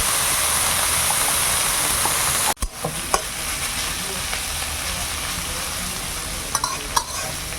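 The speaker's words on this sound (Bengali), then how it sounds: "এইবার সিম আছে ঝুরু ঝুরু করে ভাজতে হবে।" Sliced flat beans fry in a pan in a village kitchen, a steady hissing sizzle broken partway by a brief scrape and a few clacks of stirring, then settling back into a continuous sizzle.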